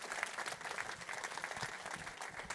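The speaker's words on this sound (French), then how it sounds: "Mesdames, Messieurs, je crois que vous pouvez l'applaudir parce que sans elle, sans sa volonté, on ne serait pas là" An audience at an awards ceremony for racing and horse-breeding staff applauds Diana Cooper, a faint distant dense patter of many hands clapping, even and unbroken across the moment.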